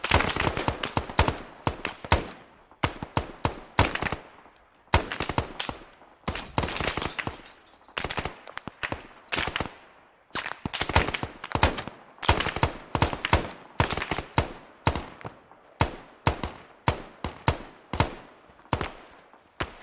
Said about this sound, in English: You're free to fire at will when you need to. Fire from the tower.